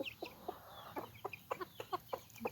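A chicken hen clucks in a steady series of short, soft calls in a quiet farmyard, with the rest of the flock around.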